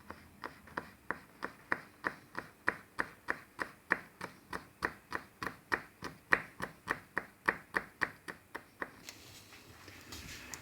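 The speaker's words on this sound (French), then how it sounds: "on va couper l'ail, petit morceau en commençant" A knife chops garlic into small pieces on a cutting board in a steady run of about thirty crisp taps, fairly close and quiet, ending in faint kitchen noise.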